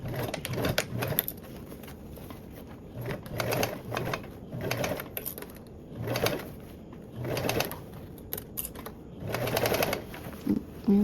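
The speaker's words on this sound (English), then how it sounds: "we'll go in and we'll sew with that 3/8 seam allowance" A sewing machine runs in repeated short bursts, stitching a 3/8-inch seam along a fabric colour-blocking panel for a Cascade duffle bag, with pauses in between and faint background noise.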